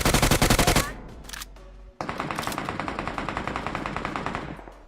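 Rapid automatic gunfire from a mobile battle royale game comes in two loud close bursts with a short pause between them. The second burst runs longer, with sharp evenly spaced shots.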